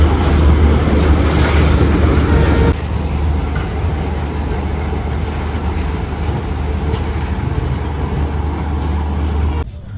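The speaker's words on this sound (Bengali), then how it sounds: "আর এই ট্রেন কিন্তু বেরিয়ে যাচ্ছে" A passenger train pulls out of Kamakhya station, a steady loud rumble of wheels and carriages rolling close by, heavier for the first few seconds then settling into a continuous drone until it fades at the end.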